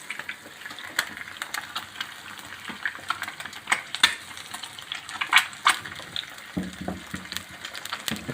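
Eggs frying in a pan over a low flame, giving a soft crackling sizzle broken by small pops and light scraping clicks, moderately close, with no voice.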